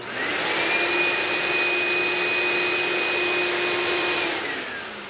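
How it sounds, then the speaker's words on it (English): An 8-gallon, 3-horsepower shop vac runs off a portable power station, a loud, steady whining roar that spins up, holds for several seconds close by, then winds down at the end. "I've got an 8-gallon, 3-horsepower shop vac."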